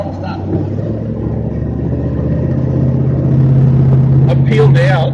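A 1962 Ford Fairlane's modified engine drones and builds under throttle, a steady close-up mid-low rumble that grows louder toward the end, with brief voices breaking in near the finish.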